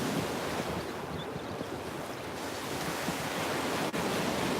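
Waves wash onto a beach at sunset while a breeze blows, a steady broadband surf hiss with wind buffeting the microphone, continuous and without voices.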